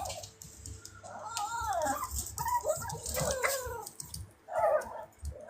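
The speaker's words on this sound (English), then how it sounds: "there's some puppies in the background" Puppies whimpering and yelping in the background, a string of short high cries that come and go across the clip, fairly faint, with no talk over them.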